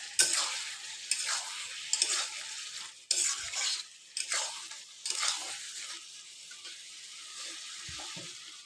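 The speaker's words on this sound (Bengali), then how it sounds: "এখানে পটল চিংড়ি বসিয়ে দিয়েছি। মশলাটা কষা হয়ে গেছে, তেলও ছেড়ে দিয়েছে।" Pointed gourd and prawns stirred into a fried spice paste in a pan, with intermittent scraping stirs over a soft, steady sizzle of oil, each stir close and bright before easing back into the quiet frying.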